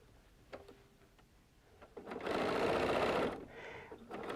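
Sewing machine chain piecing quilt block pieces for a barn-side sawtooth star wall hanging, a close, quiet whir running about a second, with small clicks and handling noises before and after.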